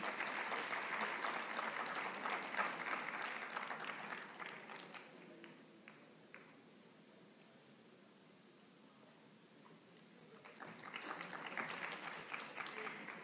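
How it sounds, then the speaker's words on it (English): A university hall audience at a youth consultation event claps for the panelists, fairly quiet and distant, fading to a lull midway before a second burst of clapping swells back near the end. "Can we please have a huge round of applause for our panelists?"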